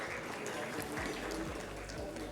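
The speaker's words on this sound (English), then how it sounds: "Please welcome ma'am with a round of applause." Audience at a business conference session applauding a panelist walking on stage, with soft, continuous clapping heard from a distance.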